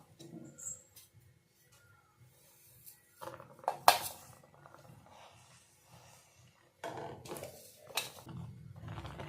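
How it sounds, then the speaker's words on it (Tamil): A spoon stirs ground vermicelli into boiled milk in a pot, with quiet scraping and a few sharp metallic clinks against the vessel, then louder, steadier stirring toward the end. "இப்போ நம்ம அரைச்சி வச்சிருக்க சேமியாவை அதில் கலந்துக்கலாம்"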